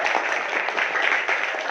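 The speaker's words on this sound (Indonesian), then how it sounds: "Tepuk tangan untuk kita semuanya dulu." A class of students claps together in a classroom, a dense, steady patter of many hands filling the whole moment with no talking over it.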